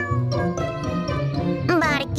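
A cat meows several times in quick succession, close and fairly loud, with a small bell jingling alongside.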